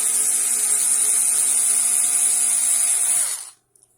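An electric screwdriver backs out the case screws of a Hikvision DVR, giving a steady, close high-pitched motor whine for a few seconds that then winds down and stops.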